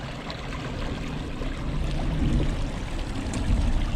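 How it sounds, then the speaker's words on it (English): Water in a city creek, Caltrip Creek, flows in a steady broadband rush that swells slightly toward the end, close and continuous with no voices. "This is the far end of Caltrip Creek that I've never been in before."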